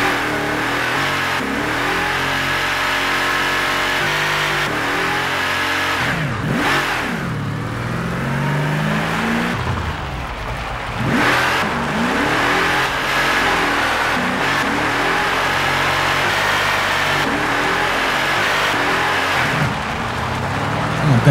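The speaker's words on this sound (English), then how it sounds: "breaking out a car game. Playing Burnout Paradise" Burnout Paradise car engine revving loud and steady while driving, rising and falling through repeated gear shifts and accelerations with no talk over it.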